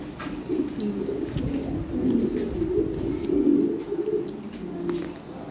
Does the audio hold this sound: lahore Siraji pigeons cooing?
yes